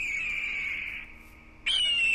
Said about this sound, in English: I'm hearing lots of bird noises